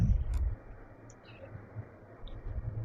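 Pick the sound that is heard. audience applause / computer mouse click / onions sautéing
computer mouse click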